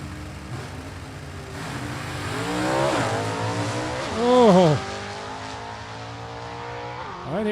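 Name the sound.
drag race launch of 67 Chevy Nova and Camaro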